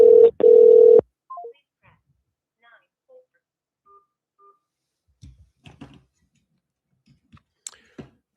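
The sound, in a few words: telephone dialing tones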